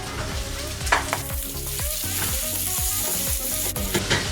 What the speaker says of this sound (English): So we need to fry the tomatoes and then the tomatoes start splitting